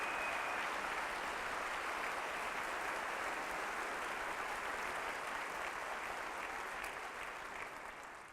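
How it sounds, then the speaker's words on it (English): Sustained, dense applause from an audience for student dance performers at a school district event, loud and even throughout before tapering slightly at the end. "Let's give them a resounding round of applause"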